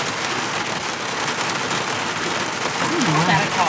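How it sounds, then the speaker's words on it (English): Steady heavy rain and storm noise roar as a broad, constant hiss throughout, with a voice speaking faintly near the end. "It's storming, y'all."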